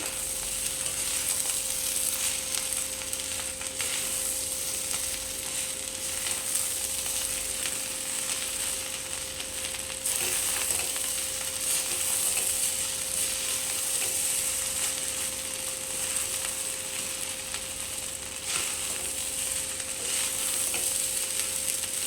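Egg fried rice with chili sauce and soy sauce being stir-fried, a constant broadband sizzle with repeated spatula scraping against the pan over a steady background hum, no talking.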